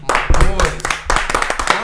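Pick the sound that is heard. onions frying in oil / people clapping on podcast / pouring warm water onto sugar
people clapping on podcast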